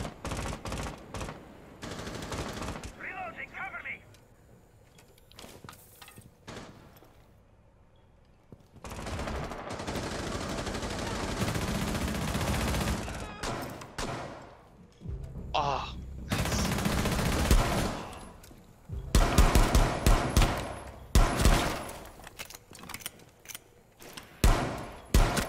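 Gunfire in Rainbow Six Siege, with scattered single shots and rapid bursts alternating with quieter stretches, loud near-field firing and voices talking in between.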